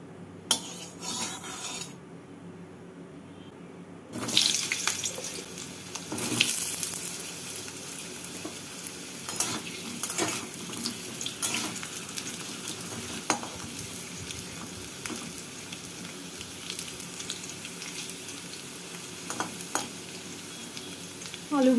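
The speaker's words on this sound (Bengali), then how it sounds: "তেলটাকে গরম করে নিয়ে এর মধ্যে আমি আলু আর বেগুনগুলোকে ভেজে তুলে নেব।" Potatoes fry in hot mustard oil in a wok with a steady sizzle, while a utensil stirs and scrapes against the pan in repeated close clinks and rubs.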